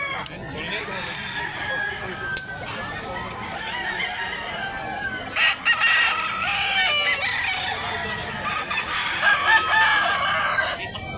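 Golden bulik gamecock rooster crowing repeatedly nearby amid other roosters calling in the distance, overlapping cock-a-doodle-doos across a steady farmyard background.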